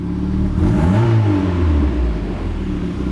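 A Mazda Miata engine revs with the clutch engaged, climbing quickly to a rising whine and then easing down into a steady rumbling idle, close and fairly loud, without any voices.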